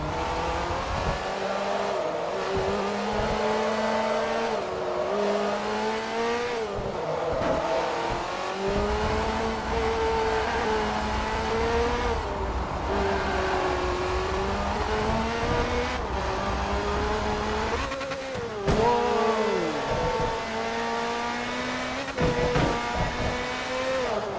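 Race car engines in Forza Motorsport 3 rev and shift continuously on a track, loud and close, rising and falling through gear changes with brief tire squeals and no talk.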